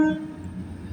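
A British Rail Class 221 diesel unit on a cross-country service from Aberdeen to St David's passing Darlington sounds a single sustained horn tone at the start, which fades into a rumbling engine and track noise.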